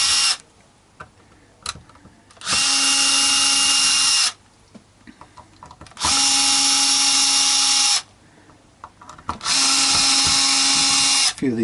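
A power drill backs out Telecaster pickguard screws in three separate bursts of close, loud whirring, each lasting about two seconds, with quiet handling clicks in the pauses between them.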